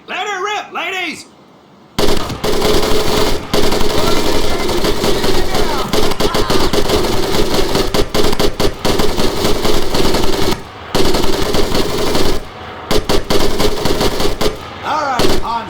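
Machine gun fire in Medal of Honor: Pacific Assault, loud and close in long rapid bursts broken by a few short pauses, after a brief spoken line at the start.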